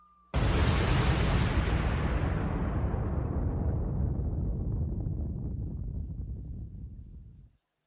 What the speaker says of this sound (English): it must have a bomb drop attached to it